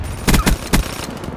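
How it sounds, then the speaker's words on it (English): Three quick, punchy shots from a burst-fire SMG in Black Ops 3, loud and close, with short gaps between them over a faint background hum. "it's a burst SMG"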